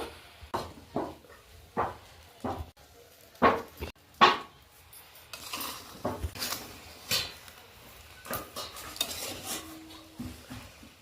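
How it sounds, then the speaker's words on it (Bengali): Sugar being stirred into fried rice in a metal pan: a spatula scrapes and clanks against the pan in irregular strokes, close and clear, with a faint sizzle underneath. "ভালো করে চিনিটা যেন মিশে যায় সেই জন্য এদিক ওদিক দিয়ে ভালো করে একটু নেড়ে নেব"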